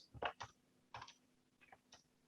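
Someone types on a computer keyboard in a few quick bursts of soft, close clicks separated by short pauses, with no talking.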